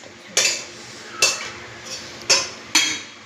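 A husband stirs vegetable khichuri in a metal pot, the spoon striking the pot in four sharp, bright clinks at uneven intervals, close and clear with no talking.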